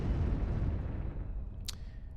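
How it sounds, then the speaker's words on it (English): Heavy bombardment rumble as bombs fall on an HQ in the KARDS strategy game, a deep booming roar fading steadily, with a brief sharp crack near the end. "we'll go ahead and start dropping bombs on that HQ"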